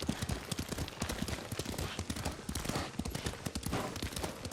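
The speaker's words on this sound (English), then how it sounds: "Lord Sakai taught me to ride a horse." Horse hooves clip-clop steadily at a riding pace in the Ghost of Tsushima video game, a busy rhythmic clatter of close hoofbeats with faint voice traces mixed in.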